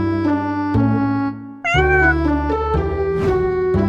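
A pet cat meows loudly and close up, a long drawn-out call that rises into a second higher, wavering meow without a break.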